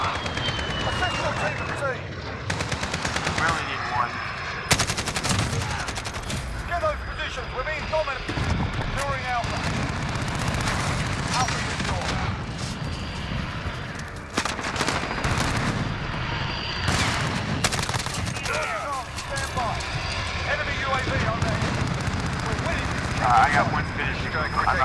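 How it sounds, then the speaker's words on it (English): Rapid bursts of assault rifle fire crack repeatedly in a Call of Duty Modern Warfare multiplayer match, with dense volleys and loud impacts spread across the stretch, and game radio chatter and player talk running underneath. "Striker, we're taking fire."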